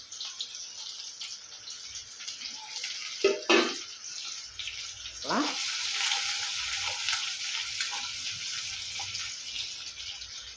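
Onions, green chillies and curry leaves drop into hot oil already crackling with mustard and fenugreek seeds for a fish curry. A steady bright sizzle swells louder after a few clunks and stays continuous and close.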